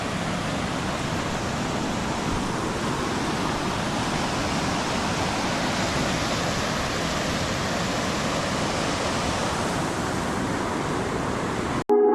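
Floodwater from two rivers rushes past a bridge after heavy rain in Konkan, a constant broadband roar that stays steady throughout before a brief abrupt break at the very end.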